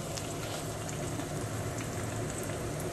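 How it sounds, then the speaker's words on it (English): Gimme Lean veggie patties sizzle in a frying pan, giving a steady, dense crackle that holds at an even level throughout, with no talking. "As you can see, it's sizzling up nicely."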